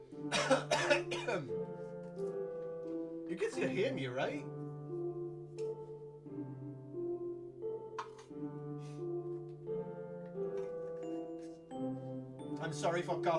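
Several rough coughing bursts, at the start, partway through and at the end, over sustained droning tones in the background.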